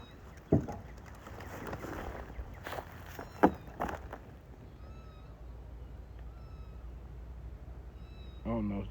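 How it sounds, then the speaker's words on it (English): Several high-pitched kitten mews, thin and fairly faint, come from inside an auto body collision repair shop, mixed with shuffling footsteps, a couple of sharp knocks and a low background hum. "These kittens is loud."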